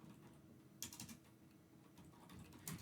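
Keyboard typing during a C++ programming session: a few light key clicks and short bursts, fairly close and quiet, with no talking.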